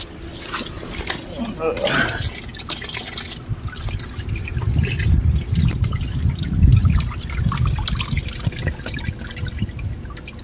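Coolant pours and trickles out of the radiator of a 2006 Dodge Charger R/T, a steady liquid splashing and dribbling close by with some clanks and handling noise.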